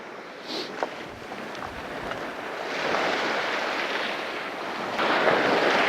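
Sea waves surging in as the tide rises fast during Storm Freya on the coast at Middle Hope, a steady broadband wash of surf with wind buffeting the microphone, swelling louder toward the end, with no talk.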